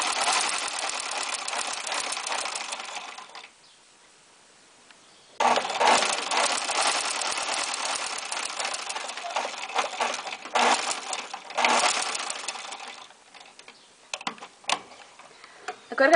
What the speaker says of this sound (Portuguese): Estamos costurando agora frente com frente, que aqui é o gancho.